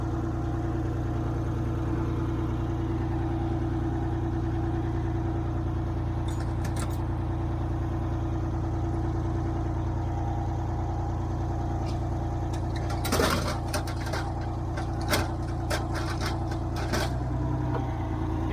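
A Detroit 8V71 diesel in a tour bus that sat unused for ten years idles steadily with a low, even drone, the engine note holding throughout and a few clunks near the end as it is put into gear.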